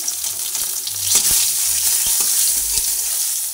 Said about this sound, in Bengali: তেজপাতাটা একসঙ্গে ভাজা হচ্ছে।